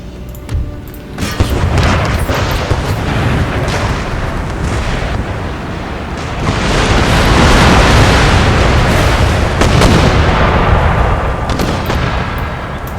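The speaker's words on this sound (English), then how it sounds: "Get the artillery to fire." Artillery and mortar fire on an Empire: Total War battlefield, heavy rumbling booms and dense volleys of blasts rolling almost without a break, swelling louder midway and then easing slightly.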